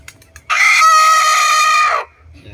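A year-old bull stag fighting cock crows once, a loud, close, sustained call that holds steady for about a second and a half before cutting off, with quiet surroundings on either side.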